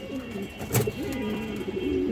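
A Sobji madi pigeon, a female offered for sale, coos in a few low, rolling calls close by, with one louder burst in the middle and no talking over it.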